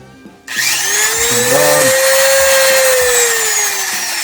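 A new Dremel rotary tool clicks on after a brief quiet moment and spins up to a loud, high, steady whine whose pitch sags and wavers slightly as it keeps running alone.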